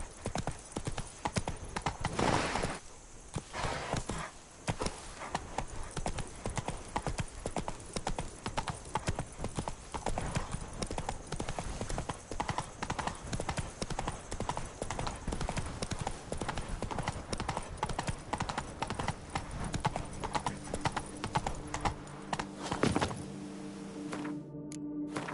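In the video game The Witcher 3, a horse's hooves clip-clop in a steady, continuous gallop rhythm, loud and close, with an occasional whinny and bits of game sound mixed in.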